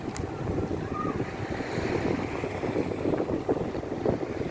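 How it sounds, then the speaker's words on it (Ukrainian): Gusty wind blows steadily across the foggy Black Sea shore in Odesa, rumbling against the microphone, with waves surging faintly underneath. "вітер сьогодні, вітер"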